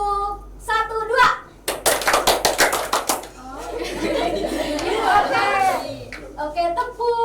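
A classroom of children claps in short rhythmic bursts of hand claps, a quick run of sharp strikes in the middle, with a teacher's voice and children chattering and laughing around them.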